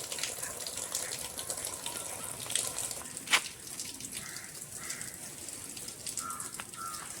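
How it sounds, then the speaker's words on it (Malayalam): Water spills over a small waterfall at a home garden after rain, a soft continuous splashing and trickling, moderately near and quiet, with a brief sharper splash partway through and no talk. "ഇതാ വെള്ളം അപ്പുറത്താ വീഴുന്നു."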